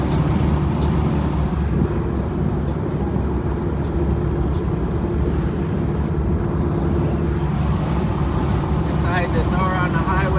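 An El Camino cruising on the highway in the morning, its steady engine and road drone filling the cabin at constant loudness, with some voice-like sounds mixed into the noise.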